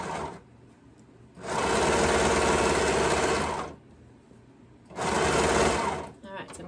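Sewing machine stitching along a fabric edge while its knife trims the seam, running in two steady bursts of loud, even motor whir with a short pause between, close by.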